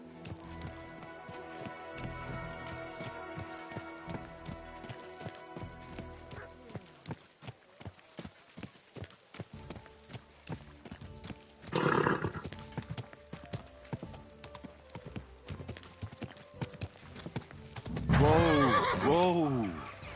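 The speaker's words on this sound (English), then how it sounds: "Easy, good horse." In the video game Kingdom Come Deliverance 2, horse hooves clip-clop in a steady rhythm and a horse neighs loudly near the end, with a crowd murmuring around a tournament and speech in the background.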